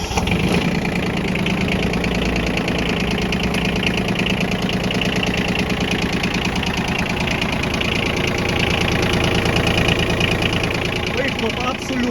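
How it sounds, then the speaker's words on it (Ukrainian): A used Yanmar mini tractor's diesel engine, about 390 hours, idles steadily and smoothly up close, a constant low chugging rumble with no change in speed throughout. "наскільки м'яко працює двигун Янмару"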